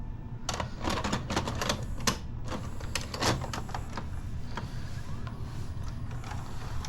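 A VCR powers up and loads a tester tape, giving a quick run of sharp mechanical clicks and clacks early on, then quieter whirring and occasional ticks.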